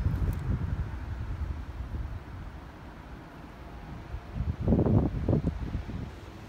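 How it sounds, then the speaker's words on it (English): Gusty wind rushes through trees along the Appalachian Trail as a steady broad roar, swelling into a stronger gust near the end, with no voices. "at least the wind is keeping the bugs off me"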